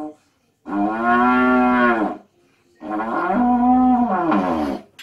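A trombone imitates a cow with two long, loud, low moos separated by a short pause.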